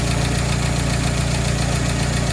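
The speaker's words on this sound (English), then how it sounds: "Starts up, runs great." A Willys Jeep engine runs at a steady idle after being filled with coolant. It gives a loud, even, throbbing chug with a slight knocking pulse, close up and with no talking.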